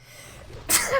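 A single sharp human sneeze bursts out loud and close after a quiet moment, with no talking around it.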